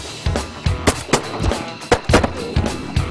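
Shotgun blasts during a duck hunt in Argentina, around eight sharp, loud reports in quick irregular succession from several nearby guns.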